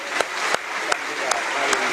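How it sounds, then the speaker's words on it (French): A congregation at a spiritual retreat claps for the Lord, sustained applause punctuated by several sharp, regular louder claps, with voices mixed in. "Applaudissons notre Seigneur."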